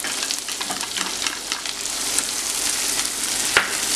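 Chopped onions and capsicum frying in a pan over a lowered flame, a steady close hiss and sizzle with faint scraping stirs, no voices.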